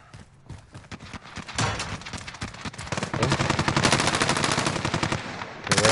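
Rapid pistol gunfire crackles through a video game gunfight, starting sparse and building into dense, loud, overlapping shot bursts that run nearly continuously to the end.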